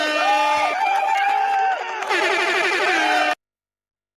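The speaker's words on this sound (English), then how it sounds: "Let's give a round of applause." A loud audience cheers and whoops over a din of horn-like blasts, the crowd noise running steadily before cutting off abruptly into silence.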